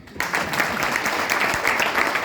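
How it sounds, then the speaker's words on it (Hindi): Loud, dense audience applause fills a program at the Taj Hotel in Nashik: steady, continuous clapping from many hands throughout, with no voices on top. "जोरदार तालियां होनी चाहिए"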